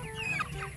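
A chicken gives a short, soft cluck, close by, in a brief moment with no talking.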